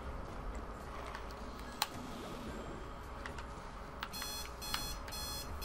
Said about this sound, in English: Turn that alarm clock off.